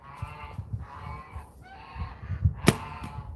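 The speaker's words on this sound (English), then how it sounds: "Look at this stupid flock of geese coming up behind my target." A flock of geese walking near a target in South Dakota, with repeated nasal honks in rhythmic bursts at middle distance, ending in one sharper call.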